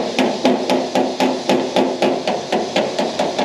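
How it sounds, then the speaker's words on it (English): A hammer taps steadily on a steel replacement panel of a Peugeot P4, about a dozen evenly spaced metallic knocks, close and fairly loud, with no talking. "We'll have to tap this around with a hammer to get it nice and level."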